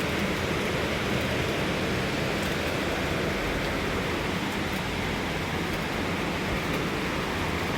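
Steady rain falls in Hong Kong in the morning, a dense continuous broadband hiss of drops on surfaces with no breaks or voices, close and even throughout.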